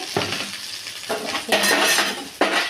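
Spleen fries in oil in a pan as a utensil stirs it and salt is added, giving scraping, clattering strokes over a steady sizzle in several close bursts.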